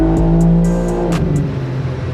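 A BMW G80 M3 with a tuned engine runs on a linked all-wheel-drive Dynojet dyno, giving a loud, steady close-up drone with a droning low harmonic stack and brief sharp clicks and chirps on top, with no talking.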